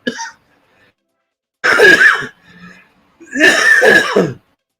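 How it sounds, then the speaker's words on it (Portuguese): Two harsh, rough coughs a moment apart, loud and close, with a brief faint sound between them. "A tosse tá braba, rapaz."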